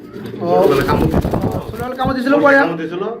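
Pigeons coo at a fancy pigeon farm in repeated throaty rolling calls, close and fairly loud, mixed with people talking.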